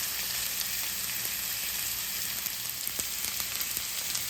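Pasta tossed into a pan of shrimp cooking on low heat gives a steady, dense sizzle with faint crackles throughout, close and even, with no talking.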